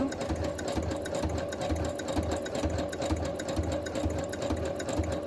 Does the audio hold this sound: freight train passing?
no